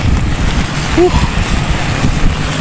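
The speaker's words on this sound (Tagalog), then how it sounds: "lakas ng hangin" Strong wind buffets the microphone with steady low rumbling gusts throughout during a rainstorm, a brief tonal squeak near the middle.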